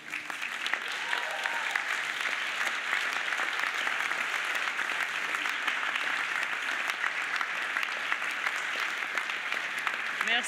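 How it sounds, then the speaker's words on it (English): An audience in a music event room applauds with sustained, dense clapping that stays loud and even throughout, without pauses. "give a big round of applause for all your fans"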